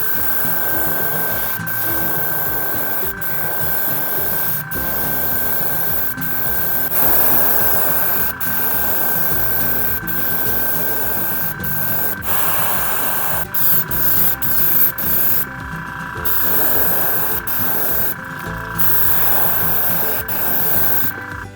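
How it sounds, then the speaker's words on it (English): An airbrush sprays chartreuse paint onto a fishing jerkbait, a steady airy hiss running nearly continuously at close range with brief pauses and small clicks. "I'm going to spray that on the upper third, the top, and then the tops of the cheeks."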